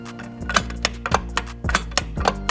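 A quick series of mechanical clicks and clunks, roughly evenly spaced, over a low steady hum, as a cheap Chinese sequential gear shifter for PC racing wheels is tapped through its gears.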